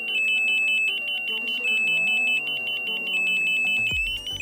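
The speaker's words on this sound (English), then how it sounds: "Continued tampering will trigger a full alarm." An EESENS Guardian alarm sounds a full alarm after tampering, a loud piercing electronic tone held steady with shifting pitches and beeps layered over it, running continuously and close.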